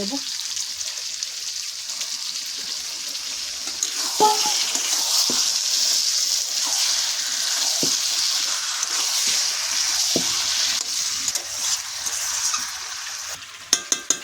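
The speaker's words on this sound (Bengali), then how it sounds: "ভালো করে মশলাটা আমি কষে নেব তেল ছাড়লে তবে চিকেন দেবো" Chicken pieces sizzle steadily in oil and spice paste that has been fried down, with occasional stirring clinks and a few sharper knocks near the end, all close up and without talk.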